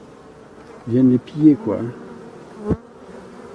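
Honey bees buzz close by at a hive in a few short, loud bursts, then one sharp knock. Someone speaks briefly in French.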